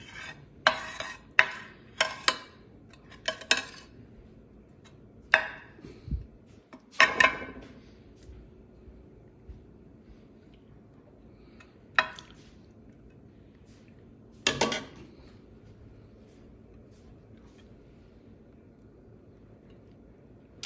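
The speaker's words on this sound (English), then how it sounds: "I'll put some sauce on the bottom of the tray and just move it along." Sauce being spread across the bottom of a baking tray for eggplant rollatini, a run of soft wet scraping and smearing strokes clustered early, then sparse scrapes with quiet gaps between them.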